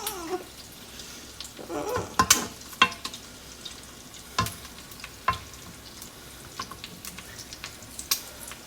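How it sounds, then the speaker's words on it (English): An egg frying in a pan topped with tomato sauce, giving a soft, uneven sizzle with scattered pops and crackles that come and go near the microphone, with no talking. "You have to wait for it to get nice and fried"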